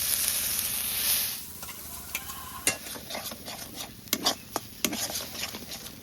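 A mix of ground green peas, ginger and green chili goes into hot mustard oil in a pan, a soft sizzle followed by scattered scraping and clinking stirs.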